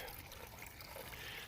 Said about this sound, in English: So that water is running